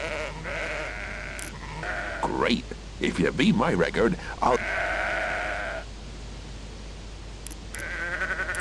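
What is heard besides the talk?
sheep bleating in video game Sudeki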